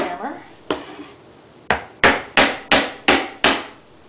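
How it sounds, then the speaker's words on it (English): Sharp hammer taps strike a wooden picture frame, first two spaced knocks, then a quick run of five evenly timed blows, close and crisp. "Sometimes you have to help it with a hammer."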